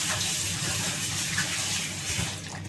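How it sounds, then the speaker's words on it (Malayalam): Milk poured into date paste, a steady close liquid pour and gush that runs without a break, loud and alone with no talking. "ഇനി നമുക്ക് ഇതിൻ്റെ ആവശ്യത്തിന് മിൽക്ക് ഒഴിച്ചിട്ട് മിക്സ് ചെയ്യാം."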